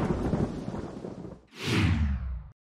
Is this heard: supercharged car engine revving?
no